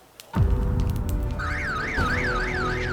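An urgent siren wails in a Korean drama, starting right after a sudden thump and rising into a loud, steady warbling up-and-down tone that continues without pause.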